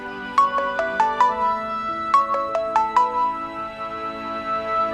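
A phone ringtone from a household scene, playing two short bursts of bright, bell-like melodic tones with a pause between them. It is clear and close, with a low background hum and no talk over it.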